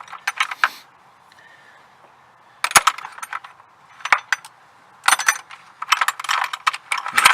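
Ratchet clicking in short bursts while tightening the battery terminal on a Jeep Cherokee, close and crisp, with quiet pauses between rapid runs of clicks.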